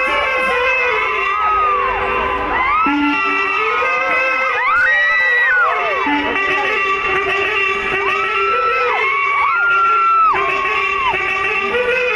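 A large concert crowd welcomes a singer with loud, sustained cheering, shouting and whistling that fills the whole stretch, with a voice briefly audible beneath the roar.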